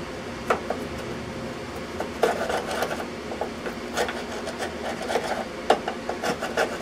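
Hand scraping of rust on a corroded metal electric box, giving a steady rasping, rubbing texture with repeated scratchy strokes, close and moderately loud, with no speech.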